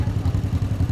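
A 1956 John Deere 420T tractor runs in a classic tractor parade, its engine giving a steady low, throbbing putter with a rhythmic pulse, loud and close, with no talk over it.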